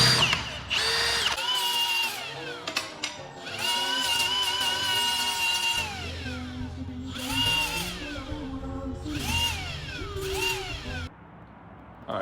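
A power drill boring holes for bolts in a custom tube front on a Mazda RX7 drift car, with repeated loud whining bursts that spin up and wind down between short pauses, close to the listener.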